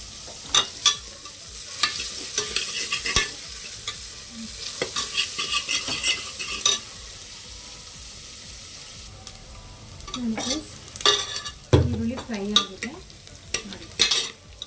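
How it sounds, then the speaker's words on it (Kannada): Finely sliced onion frying in a pan for avarekalu sambar, with a steady sizzle and repeated close spatula stirs and scrapes against the pan, busier toward the end. "ಈರುಳ್ಳಿ ಸ್ವಲ್ಪ ಫ್ರೈ ಆಗಬೇಕು"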